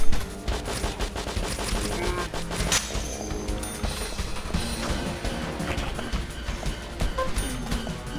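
Dense, rapid gunfire from a .357 revolver in the video game Deadly Premonition, loud and continuous amid crashing effects, with no talking.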